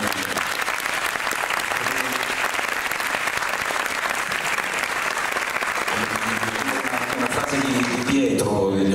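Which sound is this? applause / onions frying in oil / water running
applause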